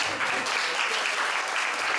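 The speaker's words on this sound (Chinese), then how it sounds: "我给老师掌声一下" Audience applause for a teacher at a self-introduction gathering: dense, steady clapping from a crowd, fairly loud and close, sustained without a break for about two seconds.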